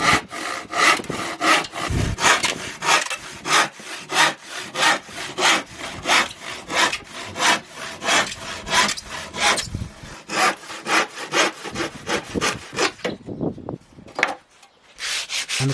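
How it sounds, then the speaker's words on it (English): A handsaw cuts wooden frame pieces for a suitcase Eurorack case with a loud, close, steady back-and-forth rasp, stroke after stroke in an even rhythm for most of the clip, then breaks off briefly near the end. "I prefer to use a handsaw as I find I get straighter cuts with it."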